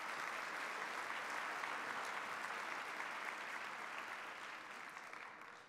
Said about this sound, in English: Why don't we give them one more round of applause?